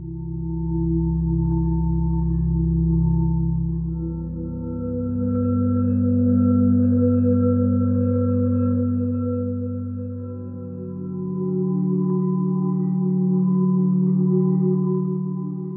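Two layered cloudy synth pads from the Metallophon instrument, panned one left and one right, swell and shift through slow sustained chords, loud and smooth with no talking.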